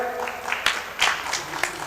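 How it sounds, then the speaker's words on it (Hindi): Applause from the audience at a mushaira poetry gathering in Borlipanchatan, Raigad: fairly quiet, scattered claps with a few sharper bursts, heard beneath ongoing voices. "जोरदार तालियां"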